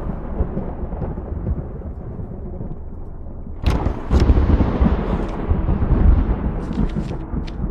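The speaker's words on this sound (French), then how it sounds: "Oh l'orage, calme-toi." Thunderstorm in the horror video game Madison: a steady low rumble of rain and storm, then a sudden loud thunderclap about midway, followed by rolling, crackling thunder that stays close and heavy to the end.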